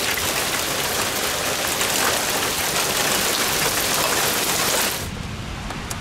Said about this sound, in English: It's still raining, although it has let up slightly.